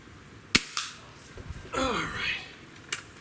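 Walther LGU .177 underlever air rifle fires at targets, a sharp close shot followed by a quieter second crack and a third shot near the end, with brief murmuring between them.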